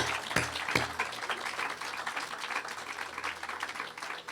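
Applause from an audience at an outdoor ribbon-cutting for a renovated affordable housing property: a fairly quiet, steady patter of many hands clapping, with a couple of sharper knocks near the start.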